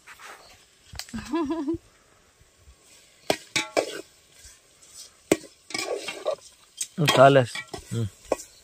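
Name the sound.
stirring brinjal curry in a pot outdoors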